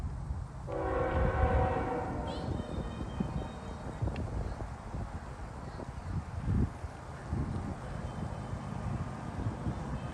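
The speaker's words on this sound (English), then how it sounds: "here comes our second train" A freight train horn sounds near the start, followed by a steady low rumble of the heavy train rolling closer, with faint wind in the background.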